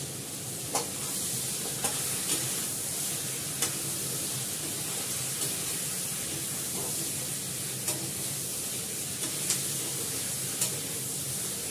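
Chicken for biryani fries in a pan with black pepper added, producing a steady close sizzle with occasional soft clicks of stirring throughout.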